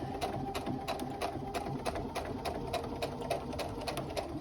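A sewing machine runs steadily, stitching along a tote bag seam near the existing stitches, its rapid mechanical whir with regular clicking pulses continuing loud and close, no voices.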